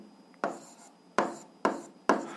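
Four quick, sharp strokes of a pen or chalk writing an algebra equation by hand, each a crisp scratchy tap with a short decaying tail, spaced unevenly over a quiet background.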